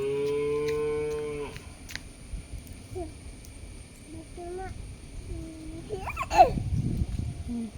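A distressed cow moos loudly up close with one long harmonic call, then a child babbles and calls out in a farmyard setting, and brief rustling and knocking sounds follow.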